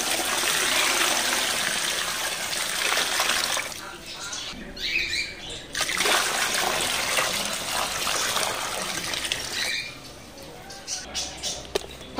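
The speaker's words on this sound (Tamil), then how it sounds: "தண்ணி ஃபில் பண்ணிக்குவோம், மெதுவாக ஊற்றணும்." Water pours slowly into a guppy fish tank, a steady splashing hiss that stops briefly in the middle, then resumes and trails off into softer trickles.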